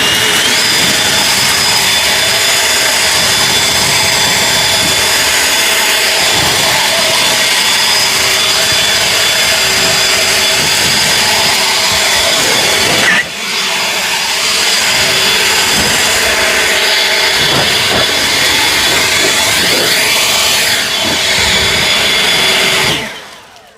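An EGO battery-powered leaf blower with a tapered nozzle sends out a concentrated stream in a loud, steady whooshing whine for over twenty seconds. A brief dip occurs partway through before it resumes and then cuts off at the end.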